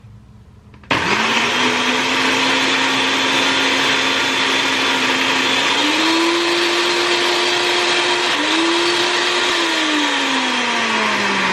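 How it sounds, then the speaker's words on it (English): A blender runs at full power blending a smoothie, starting abruptly with a loud steady motor roar and whine that shifts pitch slightly partway through as the load changes, continuing alone without talk. "I'm going to put the blender on my leg because I don't want anything here to fall down."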